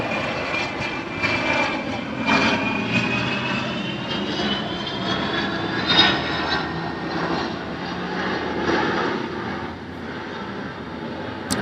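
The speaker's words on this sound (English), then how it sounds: "a plane flew by" Airplane flying overhead outdoors, a loud sustained engine roar with a whining tone that slowly rises and then fades slightly as the plane passes.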